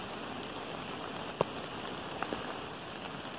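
Soft, steady patter of gentle, windless rain, even and calm, with a couple of louder drops landing nearby.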